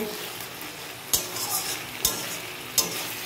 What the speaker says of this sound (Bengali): এবার খুব ভালো করে এটাকে নেড়ে নিচ্ছি।